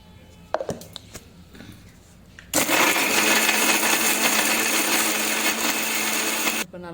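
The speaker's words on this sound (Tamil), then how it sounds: "இப்போ துவரம்பருப்பை மிக்ஸி சாரில் ஆட் பண்ணி ஃபஸ்ட்டு துவரம்பருப்பை அரைச்சி எடுத்துக்கலாம்." A kitchen mixer grinder blends toor dal into a chutney paste with water, starting with a few clinks and soft handling noises before the motor whirs loudly and steadily for about four seconds and then cuts off abruptly.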